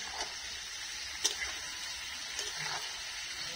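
Chili morich jhal being sautéed in a pan, a soft, steady sizzle with faint stirring scrapes and a couple of small clicks, fairly quiet throughout with no talk.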